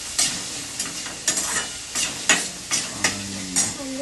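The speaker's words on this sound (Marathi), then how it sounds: "परतून घेते कांद्यांना." Chopped onions sautéing in a pan for kande pohe, a continuous sizzle broken by regular scraping stirs about every half second, close and clear without talk.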